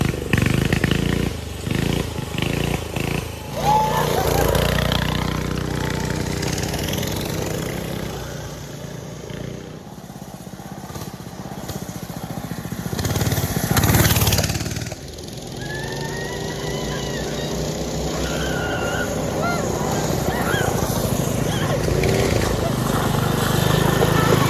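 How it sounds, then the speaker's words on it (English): Small engines of a Mega Moto mini bike and a Manco Dingo go-kart run on a driveway and dirt track, buzzing loudly and continuously with revving rises and falls, passing near and farther off. "continue to enjoy our Moto mini bike and Manco Dingo go-kart, whether it is practicing drills on the driveway or flying around a new turn in the dirt track"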